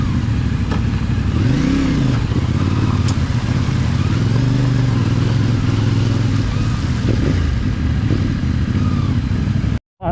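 A CFMOTO 450MT adventure motorcycle rides over a bumpy, rocky off-road trail toward a river crossing, its engine droning steadily and loud with rattling and clatter from the rough ground, with occasional talk.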